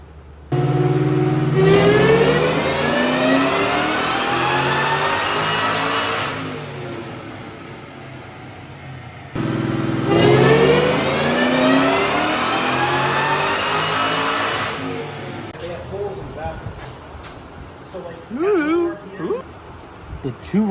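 A Whipple supercharged Cobra engine on a dyno, revving hard in two long sustained pulls that climb in pitch and then cut off, loud and close, with a voice talking briefly near the end.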